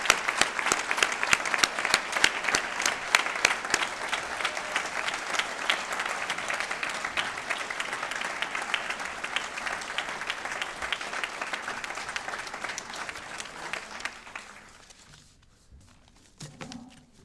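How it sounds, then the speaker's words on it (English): Audience applause for outstanding faculty award winners at a college awards ceremony, a long sustained round of clapping that fades out near the end and leaves near-silence. "One last round of applause for everybody."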